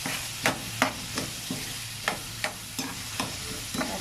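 Spatula scraping and stirring chopped sayote with tuna in a frying pan, a series of about ten short, sharp scrapes at an uneven rhythm over a faint sizzle, close and moderately loud with no talking.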